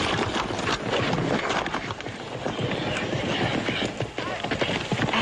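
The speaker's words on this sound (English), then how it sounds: "They got a little old horse over there all ready for you." Horse hooves clip-clop steadily in a Western drama, a dense, busy rhythm of close hoofbeats running the whole way under a thick wash of ambient noise.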